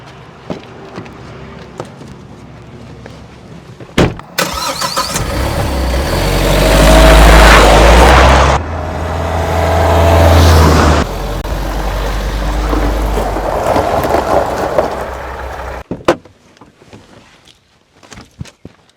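A Mahindra Thar SUV engine rumbles loudly up close, rising and swelling for several seconds before settling, with quieter shuffling before and after.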